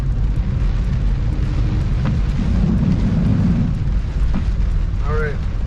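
A thunderstorm with strong wind and rain roars as a steady, loud wash of noise, with low rumbling throughout and a couple of sharp cracks. Lightning strikes land close by.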